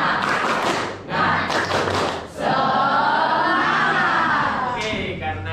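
A classroom of pupils performs the 'tepuk semangat' spirit clap, with bursts of rhythmic group clapping and thumps mixed with loud chanting voices.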